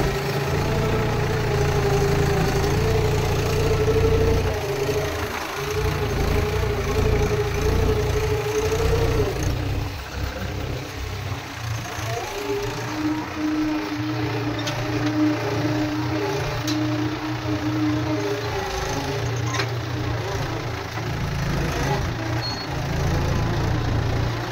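A Mahindra tractor engine runs in a village, a loud close steady diesel rumble with a throbbing low drone that shifts pitch slightly midway and carries on continuously.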